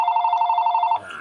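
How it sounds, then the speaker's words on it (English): A telephone rings with a rapid trilling electronic bell tone, loud and close, holding steady for about a second before cutting off into quiet room noise. "Stupid phone ringing."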